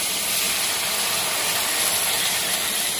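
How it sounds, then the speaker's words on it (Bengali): Water tipped into a hot pan of Bengali rui fish curry sends up a loud, continuous broadband hiss that holds steady for about three seconds, close and alone without speech. "জলটা দিয়ে দিচ্ছি।"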